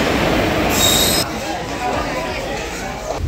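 A nearly empty passenger train rolls along near Narsapur, giving a steady broadband rumble with a brief high metallic squeal early on. Faint voices may sit underneath.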